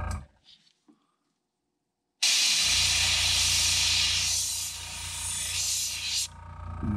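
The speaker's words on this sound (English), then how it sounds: "And keep the airbrush pretty close to your work." An airbrush spraying paint onto a crankbait fishing lure, a loud, steady hiss of air that starts abruptly after a few quiet seconds of faint handling noises, fading slightly midway and then cutting off.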